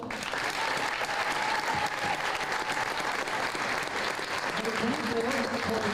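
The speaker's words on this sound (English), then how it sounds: "Please give a round of applause for number 11" Sustained crowd applause fills a gym at a girls high school basketball game, Arlington versus Malden, honoring the seniors; dense, steady clapping throughout with a public-address voice speaking over it.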